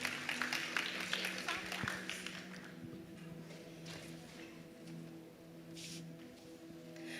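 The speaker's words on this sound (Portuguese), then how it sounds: "Vamos aplaudir ao Senhor pela vida dela." A church congregation at a women's evening service applauds together, a broad crackle of many hands clapping at moderate volume that gradually thins out, with some voices mixed in.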